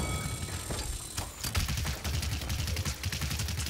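Rapid gunfire in the Paladins video game, with dense bursts of sharp repeated shots rattling almost continuously, loud and close, plus a few isolated cracks early on.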